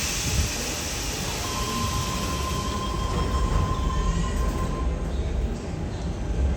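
A Sydney Trains service rumbles at platform 18 of Central station, a steady, close mechanical roar with a thin, high wheel squeal running through the middle of the passage.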